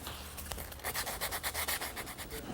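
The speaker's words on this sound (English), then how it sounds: "Now I just sand the corners so they're a bit round" The corners of a small wooden patch for a hall seat are sanded by hand in quick, rhythmic back-and-forth rubbing strokes, close and clear.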